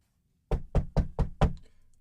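Five firm knocks on a wooden door in a radio drama, evenly spaced about a quarter second apart, close and loud, with a short fading tail after the last rap and no voices.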